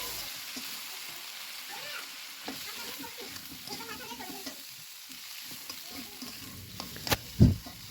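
Spice paste of onion, ginger, cumin, turmeric, coriander and other ground spices frying in a pan, a faint soft sizzle with quiet scraping stirs and a louder clunk of the spoon near the end.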